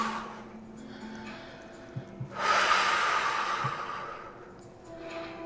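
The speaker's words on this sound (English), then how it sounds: "And exhale all the way down" A single long, breathy exhale during yoga swells after a couple of soft sniffs, rushing out clearly and fairly close before fading back to a quiet room.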